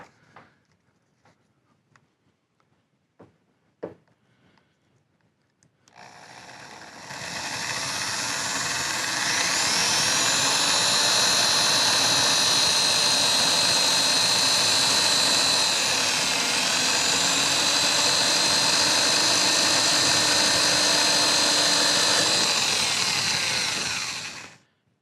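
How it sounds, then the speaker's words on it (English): Close, loud power drill boring the first hole for a 2003/2004 LST hood lift kit, a steady high whine held for roughly eighteen seconds after a few faint clicks, then cutting off abruptly. "we will actually only drill the first one to make sure we get fully aligned right here."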